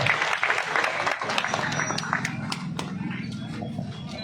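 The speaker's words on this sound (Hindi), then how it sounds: "तालियों से एक बार स्वागत हो जाए मेरे साथ" An audience at an Aam Aadmi Party political gathering applauds to welcome Harbhajan Singh Eto to the stage, with a burst of claps early that thins to scattered clapping under a voice speaking through a PA.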